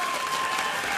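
A packed arena crowd at an LCS League of Legends esports event claps and cheers in a dense, steady burst of applause lasting about a second, loud and close with no voices standing out.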